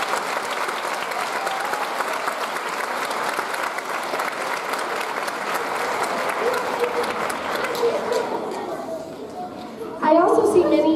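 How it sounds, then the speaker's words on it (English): Applause from students and families at a K-5 school concert, many hands clapping steadily before fading near the end as the room settles and voices begin. "we'd like to give you a round of applause"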